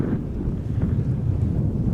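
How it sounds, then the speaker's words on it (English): Strong wind at Amsterdam Schiphol Airport buffets the microphone in a steady, low roaring rumble with no other clear sounds. "Now the wind is blowing from the southwest to the northeast"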